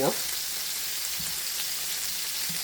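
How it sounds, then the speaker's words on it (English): Polska kielbasa sausage searing in a skillet on medium heat, a steady close sizzle and crackle of frying, with a faint soft knock as the pieces are set down. "I want to sear both sides of the Polska, so I want to make sure that it's down."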